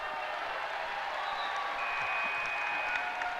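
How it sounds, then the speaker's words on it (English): Basketball crowd in a high school gym applauding a referee, steady moderate clapping held at a distance throughout. "Crowd gave him a little ovation"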